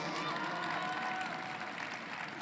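A crowd of baseball fans at a Texas Rangers Fan Fest Q&A applauds for Adolis Garcia, a steady wash of clapping and murmured cheering from a large audience that holds even throughout.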